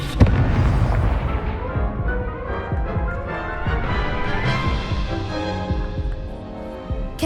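A Confringo explosion spell fired in Hogwarts Legacy bursts with a heavy boom, followed by rumbling, crackling impacts that decay over several seconds, loud and close.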